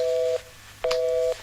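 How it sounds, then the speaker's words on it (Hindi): A phone call drops into a disconnect tone: two steady electronic beeps of equal pitch, each about half a second long, separated by a short gap. "फोन कट गया।"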